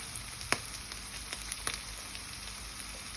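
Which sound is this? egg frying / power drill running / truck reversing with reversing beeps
egg frying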